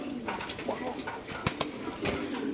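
Racer pigeons coo softly at a bird market, a few short low calls close by with faint background voices and scattered clicks.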